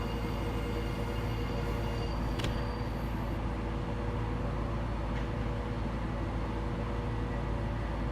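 A train in the Train Sim World game on Austria's Drautalbahn roars steadily past at 130 km/h, a loud, dense, continuous rumble of rolling wheels with a couple of brief sharper clanks.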